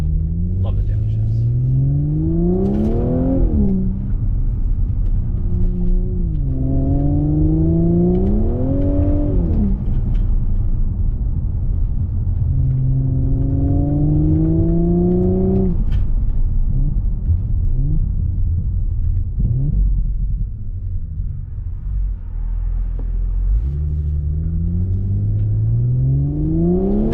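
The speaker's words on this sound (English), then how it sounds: "You guys can listen to it. Do a pull here." A 2023 Audi S4 B9.5 engine and exhaust pull hard through repeated rising sweeps, each ending with a sharp upshift, in a loud, continuous interior run with a brief drop near the end.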